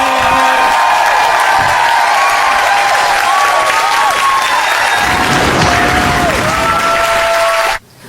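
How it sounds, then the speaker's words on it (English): A large studio audience at a late-night comedy show claps and cheers steadily and loudly, with whoops rising through the dense applause before it cuts off abruptly near the end. "Start clapping, make some noise."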